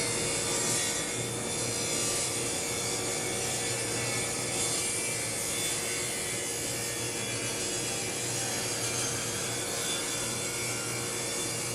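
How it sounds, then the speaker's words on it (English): Bandsaw resawing a wood board, a makeshift resaw setup giving a continuous raspy cutting drone, steady and fairly close, with no talk. "got it ready to go over to the bandsaw to resaw it"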